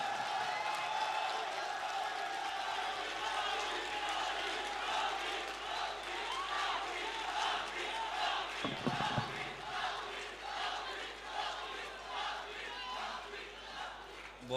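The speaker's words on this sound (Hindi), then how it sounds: "भरपूर तालियों से इस्तकबाल करें।" A mushaira audience at the Sargodha Arts Council claps and cheers to welcome poet Tehzeeb Hafi, sustained crowd applause with whoops throughout, a voice speaking over it and a brief thump midway.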